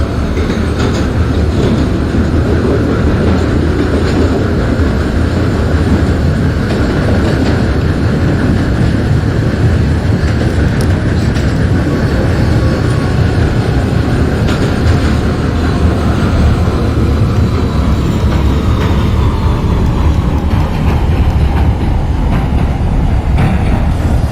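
Steady loud rumble of a simulated NYC Subway R160 N train running toward Coney Island in OpenBVE, with continuous wheel and motor drone, faint rail clatter and a slowly shifting tonal whine throughout, no voices.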